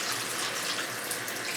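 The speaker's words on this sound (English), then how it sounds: "you're just going to rinse them off with some cool water" Cool tap water runs steadily over six turkey tails being rinsed in a kitchen sink, a continuous close splashing hiss with no talking.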